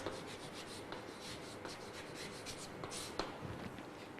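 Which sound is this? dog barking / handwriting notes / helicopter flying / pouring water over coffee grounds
handwriting notes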